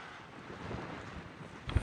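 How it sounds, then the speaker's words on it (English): Strong wind buffets the microphone outdoors on a Montana elk and deer hunting trip, a steady loud rumbling roar that fills the whole moment, with a brief thump near the end. "Probably won't be able to hear any of this because it's so windy."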